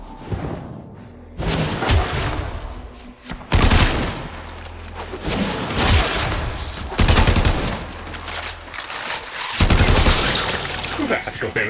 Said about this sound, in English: Hive located. Destroy it with weapon fire.